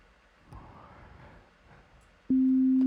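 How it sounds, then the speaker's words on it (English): A steady pure sine wave tone from a synthesizer starts abruptly near the end and holds at a constant pitch, loud and clean, after faint background noise. "as the main wave, we have a sine wave"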